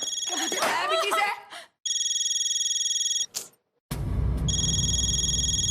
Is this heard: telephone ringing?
yes